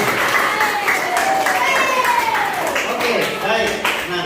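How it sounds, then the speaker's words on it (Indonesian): An audience at a school orientation event claps, a brisk spatter of applause heard at close range with people talking over it throughout. "Tepuk tangan untuk keluarga."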